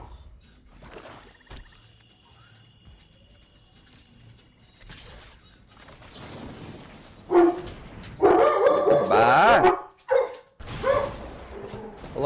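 Dogs bark in loud, close, repeated bursts after a quieter stretch of faint background noise, clustered into a few strong volleys toward the end.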